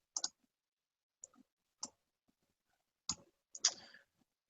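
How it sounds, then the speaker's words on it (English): Typing on a computer keyboard comes through as a few sparse, sharp key clicks, close and quiet, separated by near-silent gaps. "we're going to type for this one"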